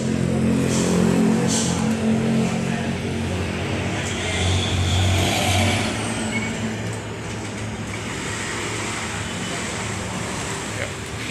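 A Harapan Jaya intercity bus engine rumbles steadily at low pitch while passengers board, with traffic noise around it and a brief hiss near the start.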